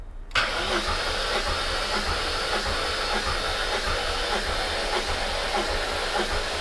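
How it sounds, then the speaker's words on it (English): A supercharged BMW E39 M5 with the S62 V8 cranks on the starter during a compression test, a loud, steady, rapid whirring churn that begins abruptly and runs without firing. "But the battery definitely is cranking."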